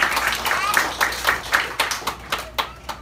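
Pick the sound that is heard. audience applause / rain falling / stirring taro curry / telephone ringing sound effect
audience applause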